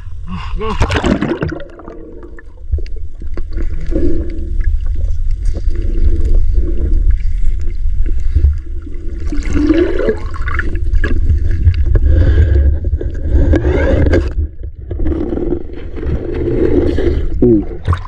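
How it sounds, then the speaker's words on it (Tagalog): Strong sea waves and gusting wind buffet a small fishing boat out on open water, a steady loud roar of wind and splashing water throughout, with brief bits of talk now and then. "Malakas yung alon mga idol. Mahangin ba."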